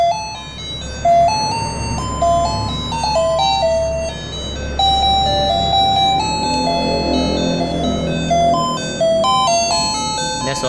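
A digital alarm clock plays its melody alarm, a loud electronic tune of bright stepping beeps that carries on without pause and is heard alone.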